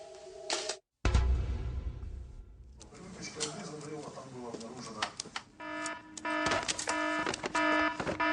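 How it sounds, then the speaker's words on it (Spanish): An alarm sounding at a Kyiv fire brigade station during the Chernobyl nuclear disaster, a repeating, steady tonal ringing that grows louder and denser toward the end, mixed with a dramatic soundtrack after a brief silent gap. "Ha sonado la alarma"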